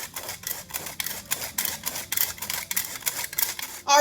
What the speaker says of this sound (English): Going to sift these together, or you can whisk them if you like.